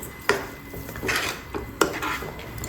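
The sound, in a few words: stirring sugar into rava kesari in a pan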